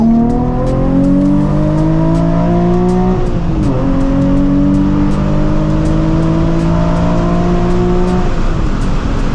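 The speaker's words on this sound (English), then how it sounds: "Second gear pull, 40 roll, 30 and 40 miles an hour, and go." A Nissan 350Z roars through a hard second-gear pull from about 30 mph, its engine note climbing loud and close, dipping briefly at a shift, then rising again.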